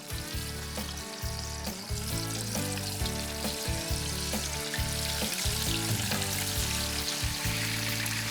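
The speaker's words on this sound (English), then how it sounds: "I'm going to lay them in the oil" Cornflake-coated lake trout fry in hot oil with a steady, close sizzle that continues throughout, heard under tonal background music.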